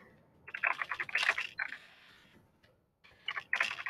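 Bursts of quick keyboard clicks, a couple of rapid typing runs with a short pause between them, close and fairly quiet.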